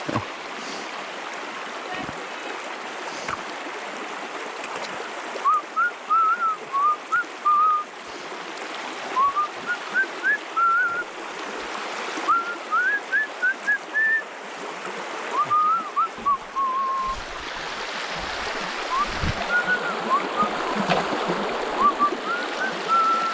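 A river rushes steadily during a thru-hike on the Arizona Trail between Pine and Payson, with a loud, broadband water roar broken by intermittent whistling.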